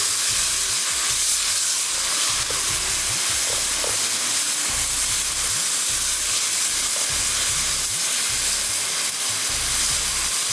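Yogurt with salt and spices frying in a pot, a dense, constant hiss and steamy sizzle that stays loud and even throughout, with faint low knocks underneath and no speech.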